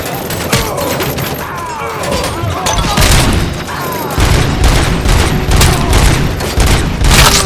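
Dense, loud gunfire in the RoboCop: Rogue City video game: continuous volleys of shots and booming impacts fill the whole stretch, with faint shouted voices under the battle.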